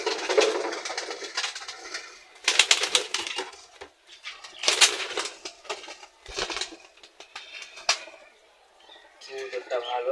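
Pigeons cooing and fluttering close by, with soft repeated coos and bursts of wing and bird noise, interrupted by someone talking.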